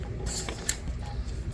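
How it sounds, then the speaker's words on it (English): An accessory snapping onto a pressure washer: a brief plastic creak and a sharp click near the middle, quiet and close against low background noise. "And even on my pressure washer, I just snap it in."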